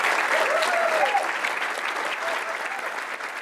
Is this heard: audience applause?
yes